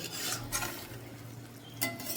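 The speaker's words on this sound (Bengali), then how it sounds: "আমি কিন্তু নেড়ে চেড়ে ভাজতে থাকবো" A spoon stirs spice paste with tomato frying in a pan for an elephant-foot yam and small shrimp dish, scraping in a few soft strokes over a low, steady background hum.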